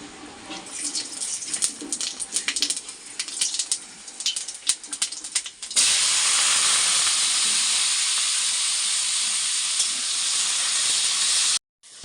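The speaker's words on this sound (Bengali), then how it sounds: "তো তেলটা গরম হলেই পাঁচফোড়ন দেব, দিয়ে আলু চচ্চড়িটা বসাবো।" Panch phoron spices and potatoes for alu chachchari hitting hot oil in a winter kitchen: a crackly, uneven sputter at first, then a loud, steady sizzling hiss that holds until a sudden cut near the end, with no talking.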